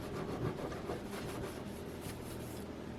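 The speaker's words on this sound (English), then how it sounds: "you can run your fingers over the cooktop to see if you feel anything" Fingers rub over a glass ceramic cooktop, making a soft, continuous close-up scuffing noise that lasts a few seconds.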